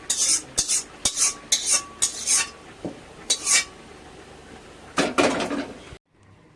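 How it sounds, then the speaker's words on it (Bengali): Utensils scrape and clatter against metal pots as fish curry is poured out in a home kitchen, a series of close, sharp scraping bursts with brief pauses, ending abruptly. "মাছের ঝোল হয়ে গেছে, পাত্রে ঢেলে নিলাম।"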